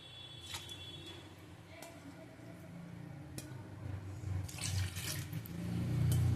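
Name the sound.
water being poured for syrup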